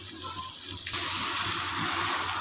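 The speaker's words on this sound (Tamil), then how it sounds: "வந்து நம்ம தண்ணி ஊற்ற போகிறோம்" Water starts pouring abruptly onto rice and keeps running in a steady, hissing stream into a container, close up.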